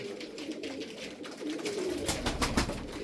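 Boz duman (smoky grey) play pigeons coo, their low soft murmur rising and falling throughout with no voices present.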